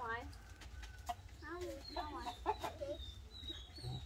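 Chickens clucking and squawking at close range as they are caught on a farm, with several people talking over and between the calls.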